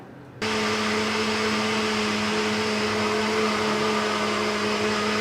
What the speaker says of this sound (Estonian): Ja blenderdame selle ära.